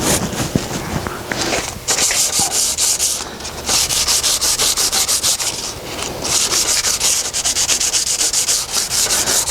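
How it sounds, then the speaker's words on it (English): Steady, close rasping strokes of 220 grit sandpaper working over the cone of a Concept2 oar blade, scrubbing off gray guide coat in a quick continuous back-and-forth rhythm. "Then we'll use the 220 to sand the cone."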